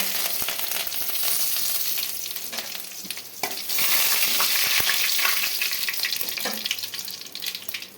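Mustard seeds, cumin and curry leaves sizzle and crackle in hot oil for a capsicum curry, a loud close hiss with scattered pops and stirring, swelling as more goes into the pan.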